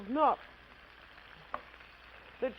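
Veal shanks for ossobuco sauté in oil in a pan over fairly high heat, a soft steady sizzle under bursts of a woman's speech at the start and end.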